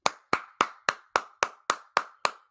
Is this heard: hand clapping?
yes